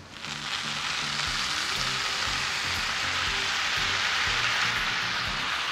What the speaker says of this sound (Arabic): دلوقتي هنزل الشوربه، مش هحط كتير، هحط حوالي ربع كوبايه